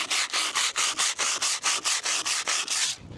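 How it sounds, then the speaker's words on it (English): 80 grit sandpaper rubs back and forth over rusty, corroded steel in about a dozen rapid, even, loud strokes, a close rasping rhythm with no talk. "if I grab hold of a piece of 80 grit sandpaper and hit a fresh area"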